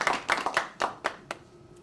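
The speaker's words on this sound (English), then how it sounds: "So let's give a round of applause for our sponsors, as well as our community partners" A handful of scattered handclaps from an evening community gathering honoring sponsors and partners, about seven sharp claps that thin out and fade over two seconds.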